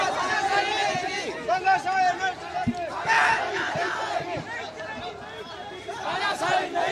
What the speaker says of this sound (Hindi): बेरोजगारों की भीड़ ज्यादा है